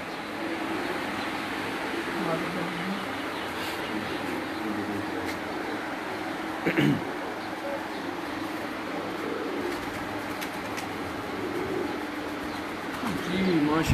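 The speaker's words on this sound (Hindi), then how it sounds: "ये उस्ताद अकमल के दिए हुए कबूतर हैं जी।" Pigeons in a rooftop loft coo softly and continuously against a busy outdoor hum, with an occasional sharp flutter or tap, while people talk nearby.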